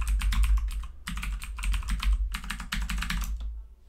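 A password is typed on a computer keyboard in three quick bursts of close, crisp key clicks with short pauses between them.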